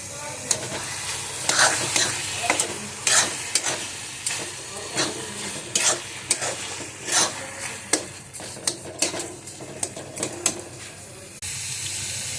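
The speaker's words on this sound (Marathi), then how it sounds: "आता साखर टाकून तूप टाकून मस्त परतून घेत आहे" Carrot halwa being stirred and sautéed with sugar and ghee, close-up spoon scrapes and soft sizzling in a repeating irregular rhythm, moderately quiet with no talking.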